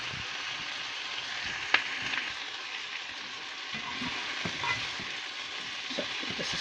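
Pork and broccoli stir-frying in a pan with pepper, a steady close sizzle and crackle running throughout, with a few sharper pops and utensil clicks scattered across.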